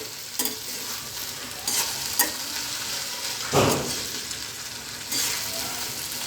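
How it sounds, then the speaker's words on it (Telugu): Garlic fries in a pan over a low flame for an Andhra okra fry, giving a soft, continuous sizzle with occasional scraping stirs of a spoon; no voices. "వెల్లిపాయలు వేసుకున్నాం కదా, లో ఫ్లేమ్లో ఫ్రై చేసుకుంటూ ఉండాలండి."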